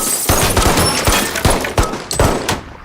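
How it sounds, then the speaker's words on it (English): Rapid bursts of loud gunfire crack in quick succession in a Better Call Saul scene, mixed with sharp shattering of glass, close and intense throughout. "Gunshots are lined up with the exploding of the glass."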